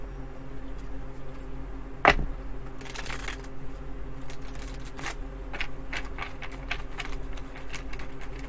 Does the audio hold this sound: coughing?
no